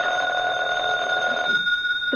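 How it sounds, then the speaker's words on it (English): An old-fashioned telephone bell rings steadily and fairly loud in a quiet room for about a second and a half, then stops. "The phone."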